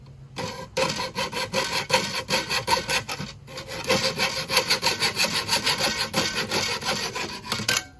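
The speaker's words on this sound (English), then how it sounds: "So now we're going to cut it with a hacksaw here." A hacksaw cuts a window screen frame piece in steady rapid back-and-forth strokes, loud and close, with a brief pause near the start.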